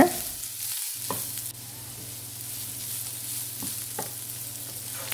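Beetroot sautés in oil in a pan, giving a continuous close sizzle with occasional stirring scrapes and clicks from the spoon, with no voices.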